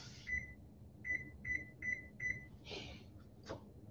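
Oven control panel being set to preheat to 375 degrees, a series of five short, clear electronic beeps in a steady rhythm, followed by a couple of fainter tones, close and alone in a quiet kitchen.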